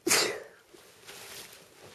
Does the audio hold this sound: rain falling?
no